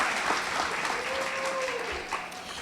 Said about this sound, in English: clap for her, she's so great